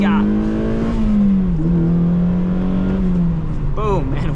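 Mazda Miata sports car accelerating, its engine note rising steadily through the gears with a brief dip at a shift, heard from inside the car, with a voice speaking over it near the end.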